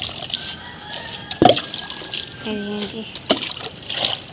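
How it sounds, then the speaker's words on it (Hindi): Water is flung by hand across a dusty lane in short splashing bursts, a few sharp splats with faint trickling, while a voice speaks briefly nearby. "ऐसे छिड़काते हैं हम पानी"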